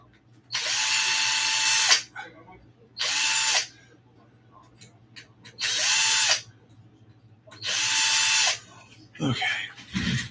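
A power drill drives longer screws into an RC car in four loud, whirring bursts of about a second each, separated by quiet pauses with handling noises, ending in a brief clatter.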